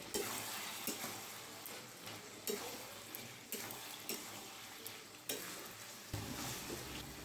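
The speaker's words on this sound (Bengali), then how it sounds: "ভালো করে সব একসাথে মিশিয়ে নিই।" Vegetable labra curry with sugar and crushed fried lentil badi being stirred in a pan, a steady sizzle of frying under repeated scraping strokes of a spoon, close and moderately loud, no talking.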